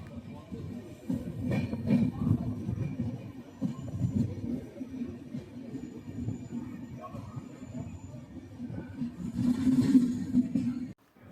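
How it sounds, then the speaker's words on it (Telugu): An express train on ICF coaches running on the rails, heard from inside as a continuous low rumble and rattle throughout, swelling slightly toward the end. "ట్రైన్ అయితే కైక్లూరు నుంచి అయితే బయలుదేరిపోయింది."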